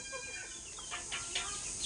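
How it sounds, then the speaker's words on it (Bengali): Chickens let out of their coop cluck softly in a short burst of fowl calls, a few faint clucks rising over a steady background hiss with no talking. "আমাদের তিথির মুরগি ছেড়ে দেওয়া হয়েছে"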